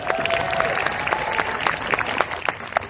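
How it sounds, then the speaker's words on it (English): An audience at a community event claps for speakers and performers, steady dense applause with scattered individual claps standing out throughout. "How about a round of applause for our speakers and performers today?"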